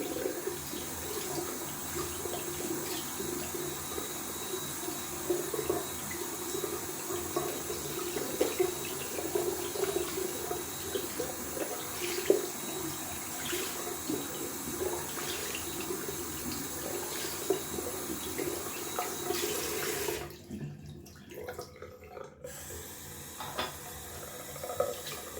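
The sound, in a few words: shaving brush being rinsed under running tap water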